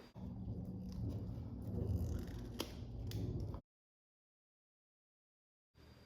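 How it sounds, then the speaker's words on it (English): A wire cutter snips through a black scooter battery wire, one crisp close snap rising out of steady handling noise, followed by a stretch of near silence. "I'm going to use a wire cutter first to cut this black wire in the middle."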